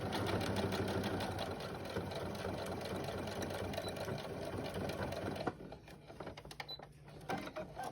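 A sewing machine stitches a child's backpack of Levi denim and cotton fabric in a steady, fast mechanical chatter for about five seconds, then stops. Faint handling noises follow.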